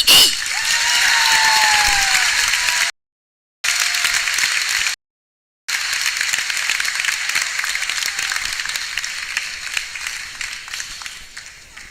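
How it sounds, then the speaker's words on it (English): Graduation audience applauding, a broad, sustained wash of many hands clapping in a large hall, briefly cut by two silent gaps, then continuing and slowly tapering. "Let's get another round of applause for Dr. Hamilton, Superintendent."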